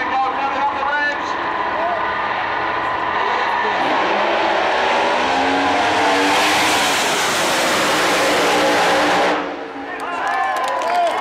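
Top methanol dragsters launch side by side down the Santa Pod drag strip at the European Finals, a loud engine roar building to a broad blast that cuts off, with a commentator talking over it.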